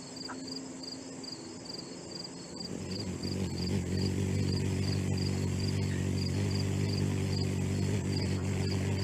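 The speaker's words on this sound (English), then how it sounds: "if you think you're being buzzed by a giant bee, there's probably a hummingbird around." Hummingbird wings in a backyard make a faint, steady buzzing hum, like a large bee, that swells after a couple of seconds and holds over a bed of chirping crickets.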